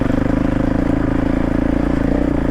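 A Honda CRF450 Rally prototype runs steadily up close with a loud, pulsing single-cylinder putter and no pauses or talk.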